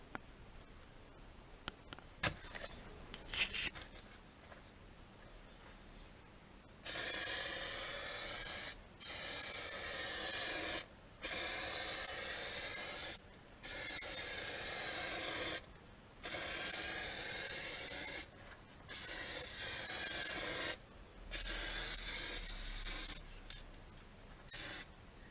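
Clear coat sprayed onto a Kawasaki ZZR1400 lower fairing during a repair, heard as seven or eight loud, steady bursts of hissing spray, each lasting a couple of seconds and separated by short silent gaps.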